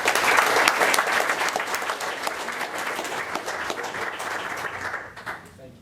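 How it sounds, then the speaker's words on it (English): Standing ovation for awardees at a ceremony: a dense, sustained crowd applause that stays loud before thinning and fading out near the end, with a voice faintly underneath. "everyone's given the awardees a standing ovation"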